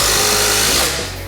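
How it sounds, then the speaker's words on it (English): A Kobalt XTR impact driver hammers a 3-inch drywall screw into wood, a loud rapid buzzing rattle up close that eases off near the end of the short burst. "generally you're not going to drive 3 inches of drywall screw into wood, but we're going to for this testing"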